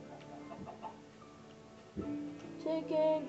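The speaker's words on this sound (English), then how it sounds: "How many chickens are there?" Chickens cluck in short, scattered bursts at close range, loudest toward the end, with low background noise.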